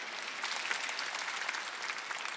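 A church congregation at a Sunday service claps in dense, even applause that holds steady for a few seconds with no speech over it.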